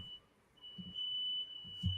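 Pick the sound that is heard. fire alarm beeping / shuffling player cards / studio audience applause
fire alarm beeping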